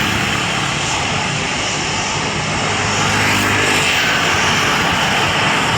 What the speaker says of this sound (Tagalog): Ayan po ang eroplano, malalaki.